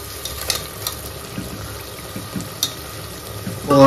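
Fried eggs being added and stirred into a tomato curry in a pan, with a steady low sizzle, scattered spoon taps and clinks, and a louder scrape at the end.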